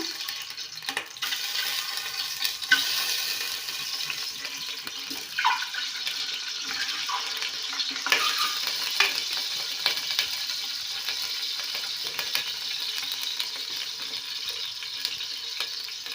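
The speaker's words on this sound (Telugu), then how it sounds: "గుడ్లు అయితే ఫ్రై చేస్తున్నా" Eggs frying in a pan in a home kitchen give a continuous, fairly quiet bright hiss and crackle, with a few soft clinks of utensils scattered through.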